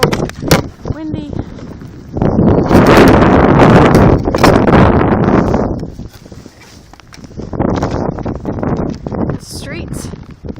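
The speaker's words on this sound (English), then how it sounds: "Whoa. Windy." Strong wind roaring and buffeting the microphone outdoors during a blizzard in West Seneca, loud and close in gusts, with footsteps on snow and a person speaking briefly.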